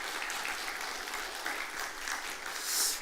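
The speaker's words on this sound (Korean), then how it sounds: "우리 할렐루야 찬양대 칸타타 수고하신데 다시 한번 박수 하시겠습니다." A church congregation applauds the choir after an Easter cantata, giving a steady, dense wash of clapping throughout at moderate level with no talking.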